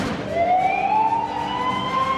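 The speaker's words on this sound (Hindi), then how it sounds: "शब्बीर ने उस दिन देखा कि एम्बुलेंस तेजी से इधर से उधर दौड़ रही थी।" Ambulance siren wailing in a steady rising tone, loud and close, sounding on its own over road noise with no talking.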